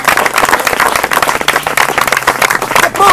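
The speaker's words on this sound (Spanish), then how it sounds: "Dale un aplauso." A church congregation bursts into loud, dense applause, with many hands clapping continuously and close for a few seconds during a sermon.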